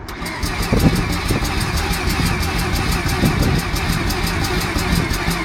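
Car engine, 'Beefsticks 7', cranking on a weak battery and failing to start: a loud, steady, rapid churning of the starter motor with rhythmic pulses, continuous throughout and never catching.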